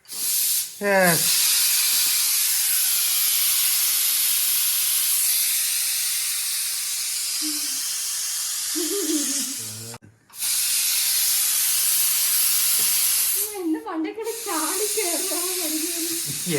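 Loud, steady steam hiss from a pressure cooker of biryani on low flame runs almost continuously, broken by a brief gap, with short bursts of speech over it near the start and end.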